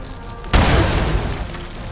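A grenade explodes in the post-apocalyptic shooter Fallout 76, a single sharp, loud boom after a quiet lead-in, followed by a broad rumbling decay that lingers to the end.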